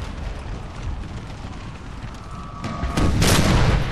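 Artillery and musket fire in Napoleon: Total War during a Gettysburg Day 2 battle at Little Round Top; a steady rumbling battle din, then loud booming cannon blasts swell near the end.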